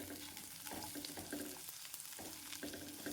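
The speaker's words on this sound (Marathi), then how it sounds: "छान भाजून घ्यायचं असं कांदा भाजत आहे मी" Onion and garlic dry-roasting in the same kadai without added oil, for a paneer Hyderabadi gravy, give a faint, steady sizzle broken by soft stirring scrapes.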